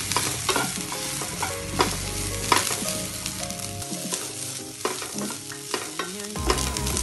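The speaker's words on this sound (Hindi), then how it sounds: "अब हम इसमें अपने राइस डाल देंगे। दो मिनट के लिए भूनेंगे उसको।" Rice being dry-roasted with whole spices in a pan for hibiscus rice, with a continuous sizzle under frequent, uneven spatula scrapes and clinks against the pan, close and moderately loud, with no voices.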